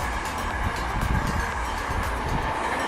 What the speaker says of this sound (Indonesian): Ada kereta juga.